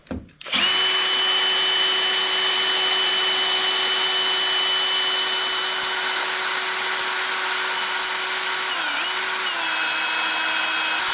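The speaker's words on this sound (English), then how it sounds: "So I'm going to drill on this." A power drill bores through the steel grill guard of a John Deere 2032R compact tractor, starting with a short spin-up, then a steady, loud, high-pitched whine that runs continuously, dipping briefly in pitch under load.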